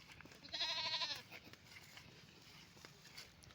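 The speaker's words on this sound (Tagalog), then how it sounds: "Ayun yung isang kambing ko." Goat gives a single short, nasal bleat near the start, outdoors by a riverbank, followed by faint ambient background noise.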